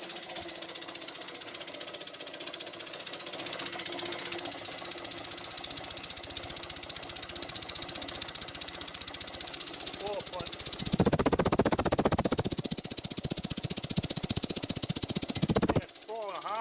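An electric motor driven by an Invertek variable frequency drive runs with a loud, steady buzzing whine and rapid mechanical chatter, while a person talks over it in the latter part.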